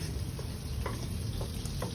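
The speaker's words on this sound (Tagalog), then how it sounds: "gigisa sa nato ang pasayan" Shrimp sautéing in a pan with garlic and onions, a quiet continuous sizzle and crackle with a few faint stirring scrapes, no talking.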